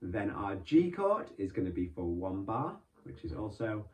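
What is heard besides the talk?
No everyday noises stand out.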